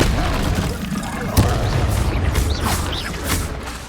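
Confringo fire spell explosions in Hogwarts Legacy, a sharp boom followed by several bursting blasts and crackling impacts amid combat noise, with a voice speaking over parts of it.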